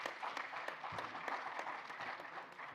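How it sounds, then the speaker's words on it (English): Faint, somewhat distant applause from an audience at a business forum welcoming a deputy CEO, a thin patter of clapping with a few louder individual claps standing out. "Please, a round of applause for Madame Alain."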